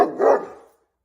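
A single close, loud dog bark with a short whining tail, standing alone and fading into silence.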